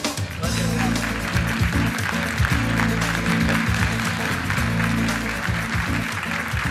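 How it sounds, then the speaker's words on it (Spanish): Audience in a large hall at a science congress applauding to welcome a speaker, dense steady clapping throughout, loud and sustained over background music, with no speech. "Lo recibimos, por favor, con un aplauso."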